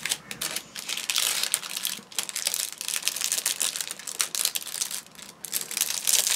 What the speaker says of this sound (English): As I said, crinkly heat seal bags